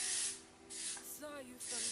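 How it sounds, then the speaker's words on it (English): Memory Mist hairspray hissing out of an aerosol can onto styled curls in several short close bursts, with brief gaps between sprays. "take that, shake it up a little bit, and then spray our hair"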